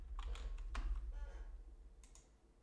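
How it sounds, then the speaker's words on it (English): Computer keyboard typing during a Hypixel Skyblock Ironman session: a few quick, soft clustered key taps near the start, then a short burst of clicks after a pause, close and fairly quiet over low background hum. "Did I type it in correctly?"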